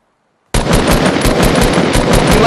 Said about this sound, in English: shoot the RPG over there